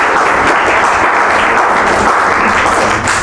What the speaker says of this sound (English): A round of applause for Gerard.